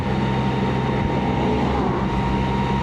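A Can-Am Spyder three-wheeled motorcycle cruising on a hot-weather ride near Wixom and Walled Lake, with a loud, steady engine drone and rushing wind noise, constant and close with no talk.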